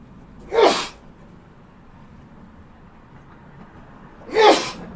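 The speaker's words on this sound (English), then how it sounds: "I had to sneeze." Two sharp sneezes, about four seconds apart, close to the mic with quiet room tone between them.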